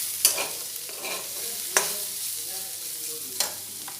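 Potatoes and onion frying in a pan while flattened rice is about to go in, giving a steady soft sizzle with three sharp stirring clacks spread across the clip; nobody speaks.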